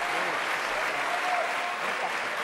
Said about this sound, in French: on va pas applaudir trop fort